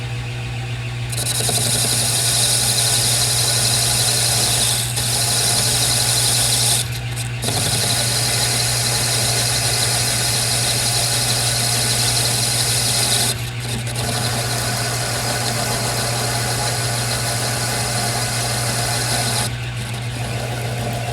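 Metal lathe turning the shank of a clamp bolt, giving a steady loud motor hum with a high whining cutting tone that starts after a second and cuts out briefly several times.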